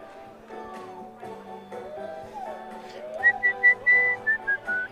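A shrill, repeated whistle rises from the crowd at a collegiate baseball game, several sharp bursts in a row standing out over the low murmur of the ballpark.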